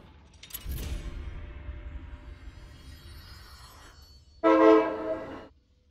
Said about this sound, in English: That mammoth sounded an awful lot like a train.